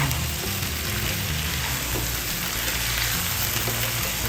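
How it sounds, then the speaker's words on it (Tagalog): Tomato paste sizzles and fries steadily in a hot pan as it is stirred for a Kapampangan chicken pochero, a dense even crackle throughout with no talk. "Halo-halo lang para maluto yung ating tomato paste."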